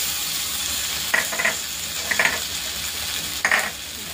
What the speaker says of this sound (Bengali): এখন দিয়ে দেবো সরষা বাটা একটু